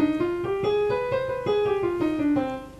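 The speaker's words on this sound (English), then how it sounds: "So now our harmonic scale sounds like this." C harmonic minor scale played as a run of separate notes stepping up and back down, each clearly articulated with a bright, ringing tone at a moderate, even pace.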